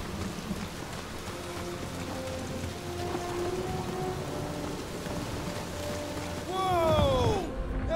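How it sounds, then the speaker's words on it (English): A rainstorm with lightning in Guardians of the Galaxy: steady heavy rain on surfaces with a rumbling roll of thunder swelling near the end, while a voice speaks briefly underneath. "That is some really crazy lightning out there."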